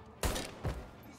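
Two loud gunshots ring out in the video game Mafia: Definitive Edition, a sharp report followed by a second about half a second later.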